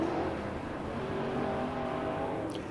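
IMCA Modified race car engine roaring steadily at a dirt raceway in Casa Grande, Arizona, loud and continuous with a sustained high rev, no talk.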